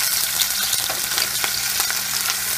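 Cut eggplant pieces fry and sauté in hot oil in a pan for a spicy kuzhambu, a loud, crackling sizzle with quick popping bursts throughout and nothing else over it.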